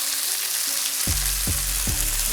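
Rack of lamb searing in a very hot cast iron pan, constant loud sizzle with three low dull knocks near the end, close by with no talking.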